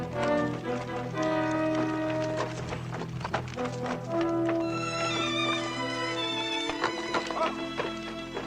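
Steady clip-clop of horse hooves in a Western film under a bed of music, a rhythmic tapping that runs through the whole stretch.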